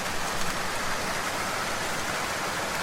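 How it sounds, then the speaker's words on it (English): Rain falls steadily on a night scene in the game Diabolus in Musica, a dense, even patter that stays constant and moderately loud with no voices. "Hayden strode through the door into the rainy night."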